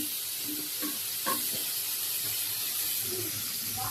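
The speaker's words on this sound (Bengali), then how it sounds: "ভাজিটাও মনে হয় একটু হয়ে গেছে, তো লাড়া দিয়ে নেই" Vegetable bhaji frying in a pan, a soft steady sizzle broken by a few scraping stir strokes, fairly quiet and with no talking.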